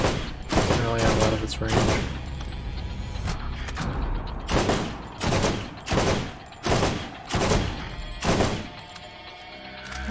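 Gunfire in the Borderlands video game in rapid bursts, first a dense volley and then a series of separate loud shot clusters at irregular intervals, with someone talking briefly between them.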